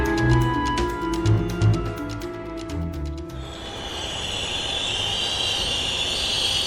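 A moving train rumbles steadily in an audio story, first with rhythmic clattering over a low drone, then settling into a continuous hissing roll.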